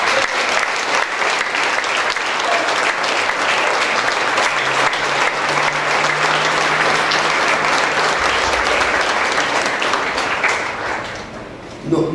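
A church congregation breaks into loud, sustained applause that holds steady for about eleven seconds, dense and continuous, before tapering off at the end.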